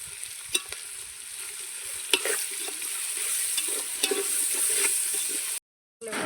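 Sliced onions fry in a pan over a village wood-fired stove, with a steady sizzle and occasional stirring scrapes and clinks. The sound is close, with no talk, and drops out briefly near the end.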